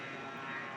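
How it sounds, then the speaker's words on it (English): An airplane drones overhead, a steady, faint, distant engine hum that holds evenly through the brief moment. "We call all airplanes Harold"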